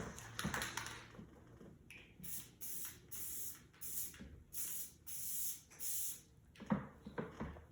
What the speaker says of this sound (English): This is just a spray glue.